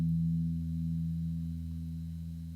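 A single low E guitar string rings out and slowly fades, a steady sustained tone with no other sounds.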